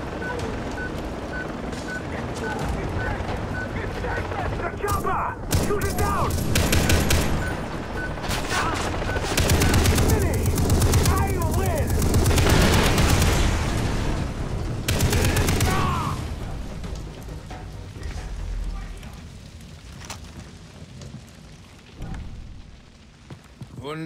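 Bursts of automatic gunfire fired at a target in the Far Cry 3 video game, loud and rapid in repeated volleys over about fifteen seconds, with game voices mixed in, before fading toward quieter ambience.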